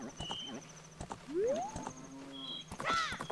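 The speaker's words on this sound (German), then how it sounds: "Epona! Mein Prachtexemplar von Pferd." Epona, the horse in the video game Ocarina of Time, whinnies with rising, wavering neighs amid clip-clopping hooves and other game sounds, as someone talks over it.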